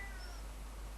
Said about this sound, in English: If you can hear a meow, that's my cat.